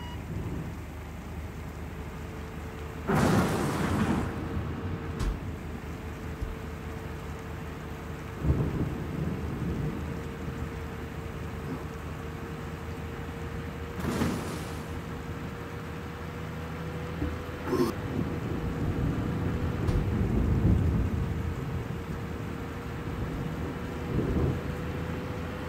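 In the game Woobly Life, steady rain hisses under a thunderstorm while several sharp thunderclaps crack at intervals, each followed by a rolling rumble, with a heavier swell of rain and thunder toward the end.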